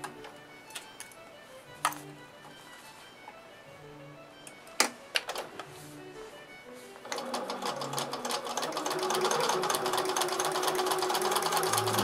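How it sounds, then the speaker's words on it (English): A sewing machine stitches a paper-pieced quilt block, at first sparse clicks and short bursts, then a steady close, loud run of rapid stitching through the latter half. "Now I stitched right along the stitching line"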